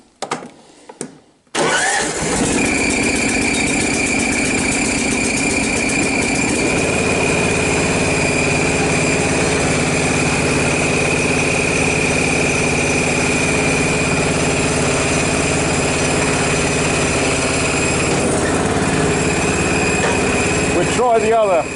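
Choked petrol engine cranking with a few brief bursts, then catching and settling into a loud, steady idle that runs on continuously, close to the microphone.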